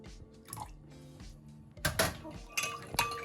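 Lime and lemon juice is poured into a Jamaican rum punch, with soft liquid trickles and a few light clinks of glass and utensils, close and fairly quiet.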